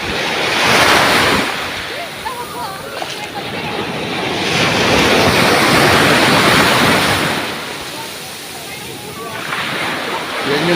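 Sea waves breaking on a beach in the morning, with a steady roaring surf that swells and recedes in several long surges, loud and close, with some wind noise.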